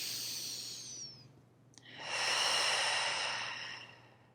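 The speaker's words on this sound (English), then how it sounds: "One more nice deep breath in here." A long, deep inhalation taken while holding a Pilates stretch on a reformer, soft and airy, easing off before a second, fuller breath swells and slowly fades; no talking, with a low steady hum underneath.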